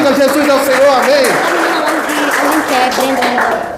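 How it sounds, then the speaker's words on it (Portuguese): A church congregation applauds in worship, rhythmic clapping running beneath a loud, sustained voice and tonal sound throughout. "aplauda o Senhor"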